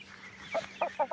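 A moulting hen on a farm gives several short, close clucks in quick succession, rising near the end of a quiet moment.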